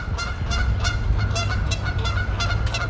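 A group of geese honks repeatedly from a sidewalk in Regina in spring, loud nasal calls coming in quick, overlapping bursts over steady low traffic rumble.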